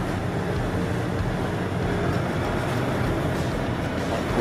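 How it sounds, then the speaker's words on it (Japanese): A ferry's engines drone low and steady as it departs Okamura port in Japan's Tobishima area, a continuous rumble with broadband wind and water noise, heard from on board and free of speech. "フェリー出港いたしました。"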